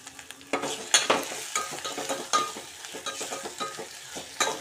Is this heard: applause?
no